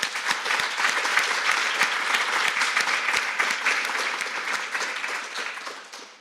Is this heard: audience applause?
yes